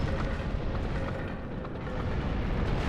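Dense, roaring rumble of fire and explosions in the dark fantasy video game Dark Souls II, a continuous loud wall of booming noise with no clear breaks.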